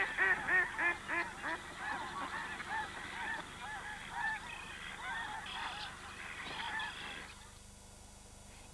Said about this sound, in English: snow geese in great numbers also began arriving there